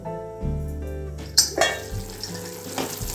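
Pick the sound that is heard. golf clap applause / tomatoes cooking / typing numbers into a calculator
tomatoes cooking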